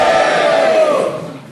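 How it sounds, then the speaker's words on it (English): A live audience gives a short burst of cheering and shouting, a dense roar that holds steady and then fades slightly toward the end. "Give me a cheer if you haven't read a Harry Potter."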